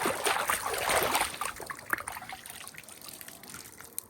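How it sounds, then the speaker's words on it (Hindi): A microfiber cloth is dipped and wetted in a bucket of clean water while cleaning a Thar Roxx at home, giving close splashing and trickling that is busiest at first and then thins to light drips, with no talk. "और कपड़ा अपन इसके अंदर गीला कर लेंगे भाई।"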